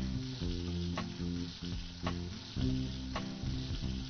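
Halibut sears in smoking-hot extra virgin olive oil, a steady close sizzle and crackle running throughout, with low tonal music sounding underneath.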